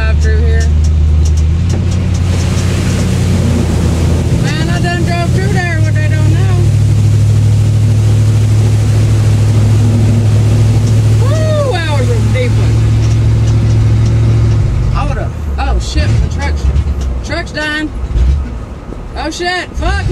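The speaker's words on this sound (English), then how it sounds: "we got a couple little flooded spots I get to drive through here." A truck drives through flooded spots on a road, its engine droning steadily and loud up close, with splashing water and shifting tones, then the engine cuts out near the end as someone talks.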